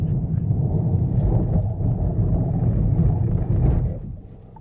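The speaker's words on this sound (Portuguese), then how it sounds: "freada brusca de 100 a 0." A 2025 Renault Espace brakes hard from 100 km/h to a stop, its loud, close road and wind rumble roaring steadily and then dying away quickly near the end as the car halts.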